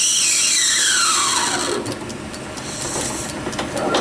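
A metal lathe cuts an engine cylinder cover, giving off a loud, close, piercing squeal whose pitch slides downward. It then gives way to a rougher, lower scraping whir that continues to the end.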